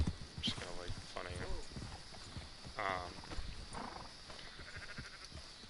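Sheep in the Red Dead Redemption 2 video game bleat several times in wavering calls over busy game ambience with hoof clatter, someone talking over them.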